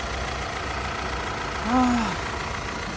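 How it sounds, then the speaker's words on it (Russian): An Audi 2-litre TFSI engine idles with a steady, even mid-pitched hum and no revving, heard close up while someone speaks briefly over it. "Моторчик небольшой, но шустренький. 2-литровый."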